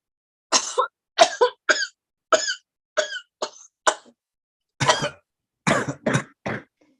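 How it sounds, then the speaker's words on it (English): A string of about ten short, harsh coughs from several people at a table read, bunched in quick bursts, close and fairly loud. "a round of spontaneous coughing begins among all the people in the boardroom"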